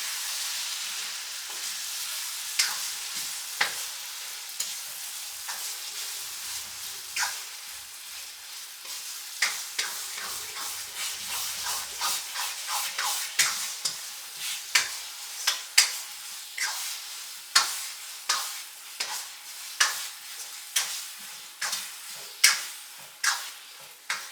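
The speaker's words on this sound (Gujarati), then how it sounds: "હવે આપણે આ રીતે મિક્સ કરી દેવાનું છે" Eggplant bharta being stirred in a sizzling pan, a soft constant hiss under repeated sharp scrapes and taps of the spoon that grow denser and louder toward the end, no voices.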